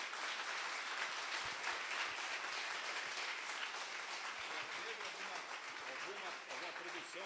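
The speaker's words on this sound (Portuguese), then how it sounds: "E as palmas ao meu Senhor." Sustained applause from a church congregation, a dense, steady wash of clapping that fills the whole stretch at an even level, with a faint voice mixed in.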